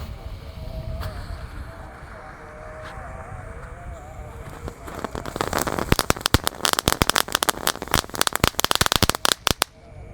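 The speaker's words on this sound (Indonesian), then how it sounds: "selanjutnya yang akan kita nyalakan di sini ada mercon tank dengan 3 tembakan preteknya guys" Tank firecracker going off outdoors: a fizzing, hissing fuse burn builds into a rapid burst of sharp crackling pops, loud and close, with faint background voices.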